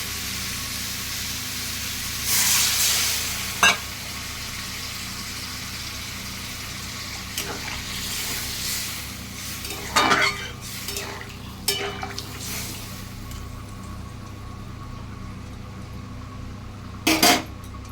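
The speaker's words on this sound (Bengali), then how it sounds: "এবার আমি জল দিয়ে দিচ্ছি।" Water is poured into a pan of sautéed cauliflower and potatoes, a short splashing hiss followed by scattered light clinks of utensils against the pan in a quiet kitchen.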